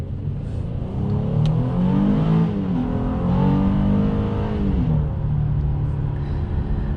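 A 2021 Honda Ridgeline's 3.5-litre V6 revs up in a loud, close burst, climbing, dropping back and climbing again before settling to a steady hum, with no talking over it.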